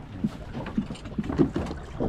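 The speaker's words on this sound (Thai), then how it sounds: "นี่ครับลูกมือกำลังเร่งเครื่อง" A fishing boat's engine revs off Sai Buri, giving low, rhythmic thumping pulses amid wind and water noise, with no one talking.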